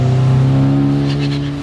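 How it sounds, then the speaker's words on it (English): Steady engine drone from a 425 hp Mustang-engine-swapped Ford Escape, strong low tonal harmonics, then a brief fluttery chatter from the turbo as the engine lets off, fading slightly at the end. "if you roll into it and let out like slowly, it gets a really good turbo flutter"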